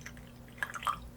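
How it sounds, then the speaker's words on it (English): Soft drips and light trickles as obsidian pebbles are washed in salt water during a quiet ritual, a few gentle, close droplets in the second half against a still, hushed background. "We're just going to be purifying them and washing them in this salt water."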